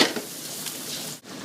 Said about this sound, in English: Alright, I got the prosciutto cooking down. I'm going to throw a little bit of red chili pepper in there, chili pepper flakes.